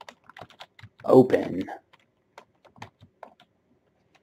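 Keys on a computer keyboard are tapped in light, irregular clicks over a few seconds, with a brief spoken word partway through.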